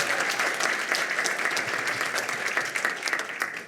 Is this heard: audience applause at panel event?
yes